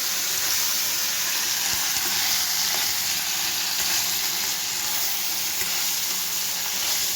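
Mustard seeds and curry leaves sizzle loudly and steadily in hot oil in a home kitchen pan, a dense continuous frying hiss with faint stirring and no talk over it.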